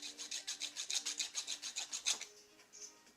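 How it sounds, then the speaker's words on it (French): Steady rhythmic rasping of a flat file on a Peugeot 102 engine's metal piston block, about a dozen quick back-and-forth strokes close by, then a pause and one last lighter stroke. "je vais passer un petit coup de lime dessus."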